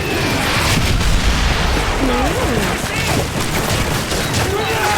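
Dense gunfire and booming explosions in Call of Duty: Modern Warfare 3 roar continuously at high volume, with voices speaking faintly beneath the chaotic battle din.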